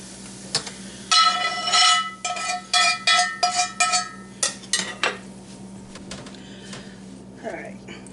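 Sautéed onions are scraped and mixed into bread for stuffing in a pan, giving a run of clanking, scraping utensil strokes against metal in irregular bursts, close and fairly loud.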